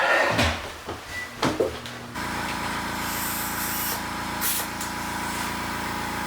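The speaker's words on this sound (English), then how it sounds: "I'm going to soak the snot out of the bead again while my compressor pumps up" Several short hissing sprays of liquid soak the tire bead of an Indian Scout motorcycle wheel with a factory spoke rim, close and sharp, before a steady air compressor hum takes over.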